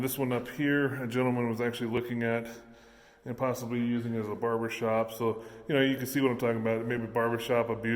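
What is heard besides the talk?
No distinct noise like a dog, phone or traffic.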